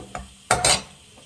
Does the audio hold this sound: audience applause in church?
no